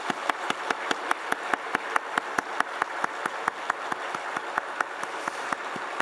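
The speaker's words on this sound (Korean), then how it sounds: "한 10초 따갑게 우리 박수를 보내겠습니다" Church congregation at a Sunday worship service clapping together in a steady, even rhythm, roughly four claps per second, sustained and unbroken with no talking.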